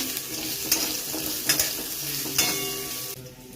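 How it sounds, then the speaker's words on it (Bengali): Potatoes frying in oil in a kadai, a steady bright sizzle with a few sharp stirring scrapes and clinks of the spatula against the pan, close and loud until the sizzle drops away near the end. "এবার আলুগুলো আমি লাল লাল করে ভেজে নেব"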